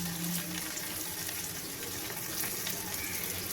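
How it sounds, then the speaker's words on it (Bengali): Whole spices frying in oil as a tempering for kalmi shak (water spinach), a steady close crackling sizzle with a faint hum beneath. "এবার আমি ফোড়নটাকে ভালোভাবে ভেজে নেব"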